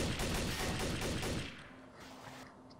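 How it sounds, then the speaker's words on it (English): Gunfire in Trouble in Terrorist Town, a rapid burst of close, loud shots for over a second, then a quieter stretch with faint distant pops and tones. "Should I take the shot? Take the shot!"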